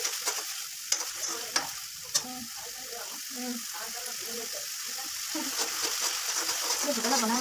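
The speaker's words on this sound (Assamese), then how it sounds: "এতিয়া ভালদৰে লৰাই দিছে।" Vegetables frying in oil for Rajasthani-style matar paneer, stirred continuously with a steady close sizzle and scraping, broken by a few sharp utensil clicks against the pan, under soft background talk.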